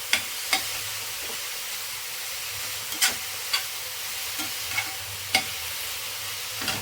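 Bitter gourd gravy mixture being stirred in a pan, with steady low sizzling frying and sharp scrapes and clacks of a spoon against the pan at irregular intervals, close and fairly quiet, no talking.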